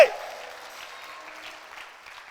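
Steady applause from an audience, a dense patter of clapping hands that starts abruptly and holds at an even level for a couple of seconds.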